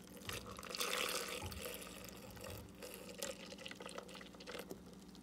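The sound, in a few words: milk pouring into vanilla ice cream for milkshake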